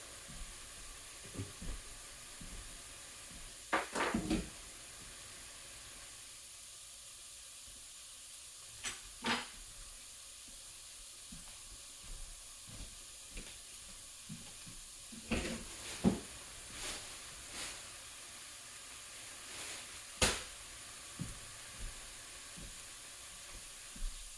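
Red beans and rice steaming in a pan, a low continuous hiss with scattered sizzles and occasional stirring clatters, quiet and close with no voices.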